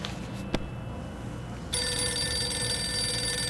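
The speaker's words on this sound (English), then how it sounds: "I hear a phone ringing." A brief click, then a phone begins ringing in the video game 60 Seconds! Reatomized on Xbox, a steady electronic trill that continues to the end, moderately loud.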